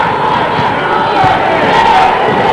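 A crowd fills a gym at a 1982 high school basketball game between Montclair and Shabazz, making a steady, loud, diffuse roar of chatter and shouting with faint voices mixed in throughout.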